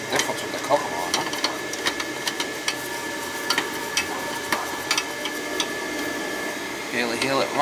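A Riello oil burner runs with its cover on, a steady, muffled whir and hum with faint ticking clicks over about eight seconds, quiet and close at a constant level.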